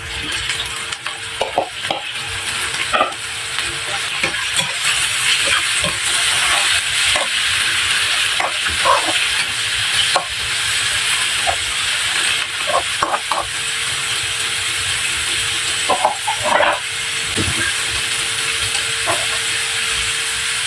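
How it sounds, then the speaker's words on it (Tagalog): Pork pieces frying in a pan for pork afritada with onions, a steady loud sizzle and hiss running throughout with scattered stirring clicks and scrapes, no talking. "ilalagay ko na itong pork sa ating kawali"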